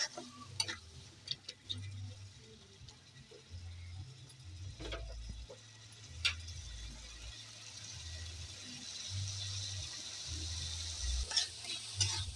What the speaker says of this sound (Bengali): ভালো করে কষিয়ে নিতে হবে মশলাটা, যাতে না কাঁচা গন্ধ বেরোয়